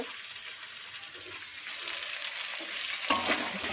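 Pieces of cut fish fry in hot oil in a pan for a fish curry, giving a steady soft sizzle with a brief clink near the end, no talking.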